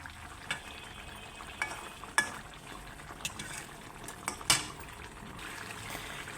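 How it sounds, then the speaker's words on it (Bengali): Sarputi fish being sautéed in a pan with spices, stirred with a utensil over a soft background sizzle. Occasional scrapes and clinks land at irregular intervals, close and moderately quiet. "এই যে ভালো করে আমি কষাই নিচ্ছি মাছটা"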